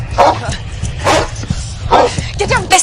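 A dog barks in a few sharp, separate bursts, loud and close, spaced out across a tense, dark scene with a low background hum.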